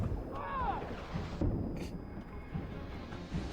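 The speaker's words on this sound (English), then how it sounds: "The constant explosions." Explosions rumble through a Mass Effect 2 game scene, low booming bursts with a whooshing sweep early on, fairly faint and muffled beneath game ambience.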